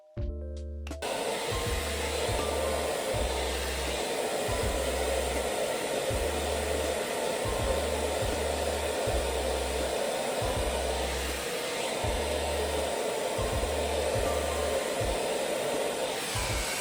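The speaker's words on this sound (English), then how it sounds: "I'm going to diffuse your hair dry" A hair dryer fitted with a diffuser drying curly hair, switched on with a click and then roaring in a steady loud whoosh close by, with a low pulsing hum running under it and no talking.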